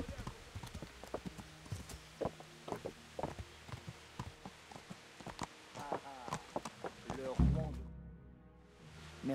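Horse hooves clip-clop at walking pace in the medieval video game Kingdom Come: Deliverance, a steady irregular patter of close hoof strikes under intermittent talk, with a thump near the end.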